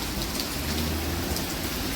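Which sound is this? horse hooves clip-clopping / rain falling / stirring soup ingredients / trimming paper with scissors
rain falling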